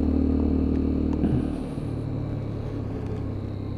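A Lexmoto Assault 125cc motorcycle rides at low revs, its engine a steady low drone with road rumble, easing slightly after a brief bump in the middle and holding an even hum to the end.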